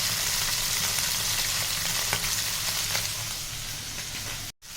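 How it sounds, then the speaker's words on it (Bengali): Hilsa fish pieces frying in hot oil, a steady close sizzle and crackle with occasional sharper pops, no talking, cutting off abruptly near the end. "তেল গরম হয়ে গেছে, এবার ইলিশ মাছগুলোকে ভেজে নেব"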